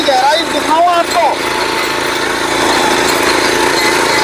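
A power tiller's engine churns steadily through dry soil, a loud, even mid-pitched drone close by, with a person speaking briefly near the start.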